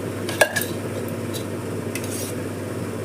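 A spoonful of ghee drops into oil in a pan for tamarind rice, giving a short clatter of the spoon against the pan and a faint sizzle over steady low kitchen background, with no talking.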